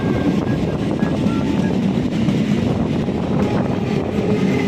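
Krishnanagar local commuter train in motion, a steady, loud rumble of wheels and carriage noise running unbroken throughout with a faint whine on top.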